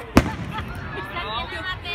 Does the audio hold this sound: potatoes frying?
no